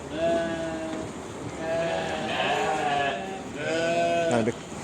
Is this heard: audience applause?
no